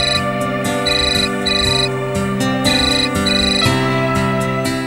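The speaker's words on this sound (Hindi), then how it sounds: "वर्षा, बड़े कमाल के टाइम पे फोन किया तुमने" A mobile phone ringtone plays loud and close, a repeating synthesized melody of bright, even tones that continues without a break, with no voices over it.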